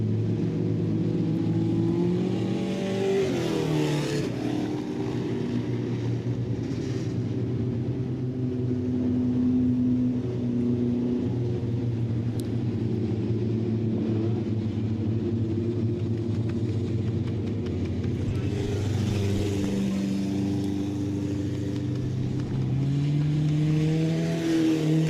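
Dirt track race cars roar through a heat race at Southern Ontario Motor Speedway, engines droning and revving continuously with rising and falling pitch as the pack circles, loud and close throughout.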